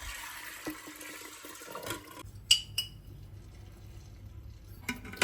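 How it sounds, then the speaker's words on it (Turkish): Water pours and splashes into a pressure cooker over beans for about two seconds, followed by a few metallic clinks and light kitchen clatter. "fasulyelerin üzerini yarım karış geçecek kadar su ekleyelim"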